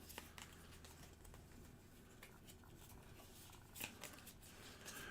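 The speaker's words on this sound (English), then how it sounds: "Shuffle them up." A deck of game cards is shuffled during a tabletop game, giving a faint, continuous riffling patter close by with a slightly louder flurry near the end.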